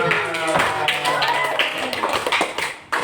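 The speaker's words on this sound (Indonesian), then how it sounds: "Betul, tepuk tangan." Classroom students clapping hands in short bursts, mixed with tapping and lively voices, fairly close and uneven in rhythm.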